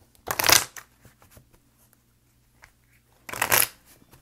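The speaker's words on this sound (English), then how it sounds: "for some reason, I felt I needed to pick up those cards." Tarot cards picked up and handled, with two distinct bursts of quick riffling and shuffling, close and crisp, separated by a quiet stretch of faint handling noises.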